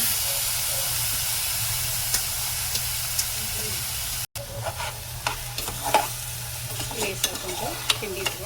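Rice being stirred in a hot pan for Hainanese chicken rice, a steady hissing sizzle with a brief cut, then scraping stirs and crackles over continuous frying noise.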